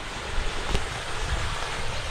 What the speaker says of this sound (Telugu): గుండాలకి వెళ్తున్నాయి నీళ్ళు